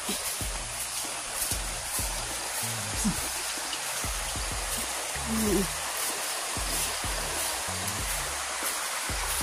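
A muddy, rain-swollen river rushes in a steady broadband roar that fills the whole clip, with a voice talking intermittently underneath.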